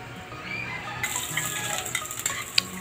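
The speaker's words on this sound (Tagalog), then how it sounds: "Simulan na po nating maggisa." Onions sautéing in a hot pan as cooking of pork offal dinuguan begins, a soft steady sizzle with faint stirring, close and alone without talk.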